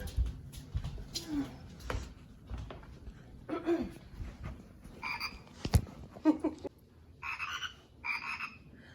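A frog croaks repeatedly in short irregular bursts outdoors in the cold, fairly close, with a few softer chirping calls mixed in and no talking.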